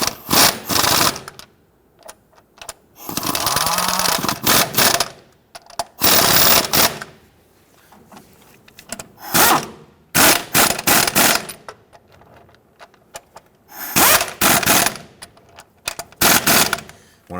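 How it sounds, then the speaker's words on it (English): Impact gun driving transmission mount bolts on a 2017-2020 Hyundai Elantra 2.0L, heard as repeated loud rattling hammering bursts of one to two seconds, separated by short pauses. "I'm gonna tighten these down here using my impact gun"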